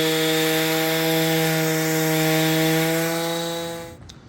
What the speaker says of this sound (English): I'm going to sand the inside with 220